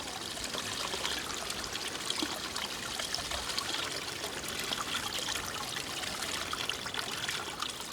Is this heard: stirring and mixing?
no